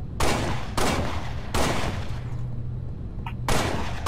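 A pistol in the video game Halo: Spartan Strike fires four loud, booming shots at a slow, spaced-out pace, each with a heavy trailing rumble, and no voices.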